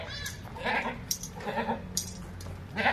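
A mother goat on a goat farm bleats repeatedly after her grown kid. The calls come in several loud, wavering bursts close by, with no talking.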